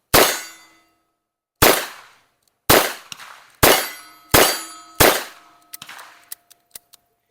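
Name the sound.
revolver gunshots at a shooting range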